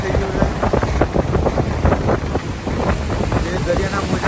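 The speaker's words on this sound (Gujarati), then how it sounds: "મોજાઓ બહુ ઊંચા ઊંચા આજે આવી રહ્યા છે." Rough high sea waves crash against the Dwarka shore near the ghat in a loud, continuous roar, with wind buffeting the microphone throughout.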